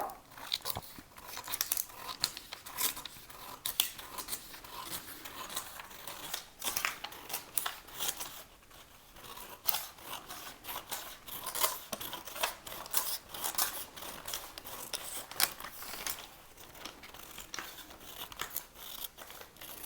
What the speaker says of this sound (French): Je découpe au niveau de la longueur.